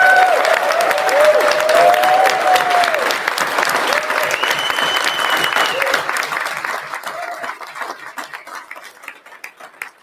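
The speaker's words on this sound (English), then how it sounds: "we need to clap and scream and really appreciate everything that they did for us" An audience at a Gcon 2025 toy convention presentation bursts into loud, dense clapping with scattered cheers, the applause sustained for several seconds before gradually thinning and fading.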